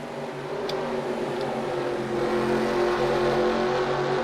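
Race cars running on a track during a Gander Mountain Cup Series race, a steady loud engine drone with a slight rise in pitch, no voices over it.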